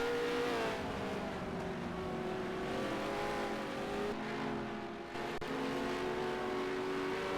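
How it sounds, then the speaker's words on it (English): Several high-revving race car engines in a racing video game drone continuously with shifting pitch, loud and close, with a brief dip near the end. "you might be noticing a slightly new sound pack for these cars"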